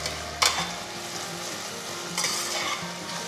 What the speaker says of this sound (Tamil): தக்காளியை சேர்த்த பிறகு கொஞ்சம் நல்லா வதக்கிட்டிங்கன்னா அது கொஞ்சம் சாஃப்ட் ஆகிடும்.